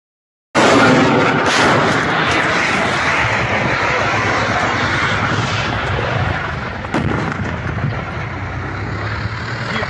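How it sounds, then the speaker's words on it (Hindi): Missile strike on Belgorod airport in Russia: a loud, sustained roar of blast and rumble that swells suddenly, holds steady for several seconds, then eases slightly with a sharp crack partway through. "यूक्रेन की फ़ौज ने रूस के बेलग्राड एयरपोर्ट पर शदीद मिसाइल हमला किया"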